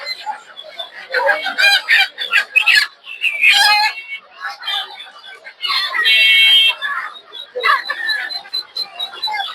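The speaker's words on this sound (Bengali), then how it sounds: "দেখতে পাচ্ছেন এগুলো সব হচ্ছে দেশি মুরগি" Native chickens cluck and squawk close by amid the busy Sunday Tongi poultry market in Bangladesh, with people talking over the birds throughout.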